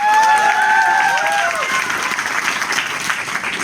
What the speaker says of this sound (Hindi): मिस्टर बबलू कुमार वर्मा जी के लिए मैं चाहता हूँ जोरदार ताली